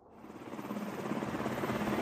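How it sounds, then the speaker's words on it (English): In a CrossfireX cinematic action sequence, a military-style attack helicopter's rotor chop swells in fast and grows louder, becoming a dense, pulsing roar that fills the scene without voices. "Watch out for the chopper!"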